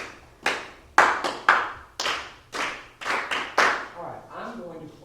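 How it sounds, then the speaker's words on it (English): A group claps an "oops" rhythm pattern in a workshop, sharp clustered claps in an irregular syncopated pattern, loud and close, with a voice briefly at the end. "So let's clap the rhythm here."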